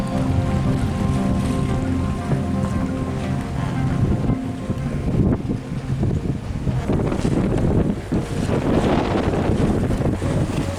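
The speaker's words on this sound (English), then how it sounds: "The sail out of Martinique is peaceful and lovely downwind as the sun sets." A sailboat runs downwind out of Martinique at sunset, steady wind rushing across the microphone with water swishing along the hull and low engine hum, no talking.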